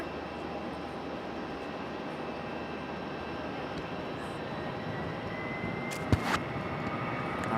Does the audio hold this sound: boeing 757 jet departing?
yes